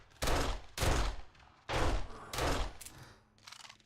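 Gunfire in a shooter video game: four loud bursts of rapid shots about a second apart, a short quieter pause, then a fainter final burst near the end.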